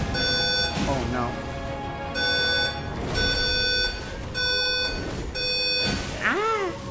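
A fire alarm beeps loudly in repeated bursts of high-pitched pulses with short gaps between them, while a person yells and exclaims over it indoors during a gaming session.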